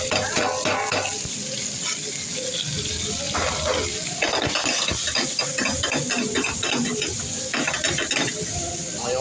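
Beef tenderloin sizzles and crackles in hot olive oil with garlic, a steady close frying hiss broken by clattering stirring and utensil scrapes against the pan.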